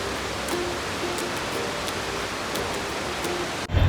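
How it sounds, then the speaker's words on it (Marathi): Heavy rain pours down in Pune as a constant, dense hiss of falling water, steady throughout, with a brief thump right at the end. "असा जोरदार पाऊस सुरू झाला आज अराउंड 4-5 PM."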